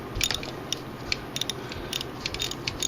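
A pulley bolt being loosened on a Mazda 626 four-cylinder engine during timing belt and water pump work: faint, quick clicks and ratchet ticks over a low background hum, close by, with no speech.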